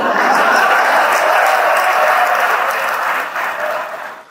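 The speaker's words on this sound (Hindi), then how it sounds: "मनीष जी ने विशेष तालियां बजाई" An audience at a poetry recital bursts into loud, dense applause that holds steady for a few seconds before tapering off near the end, with a little laughter mixed in.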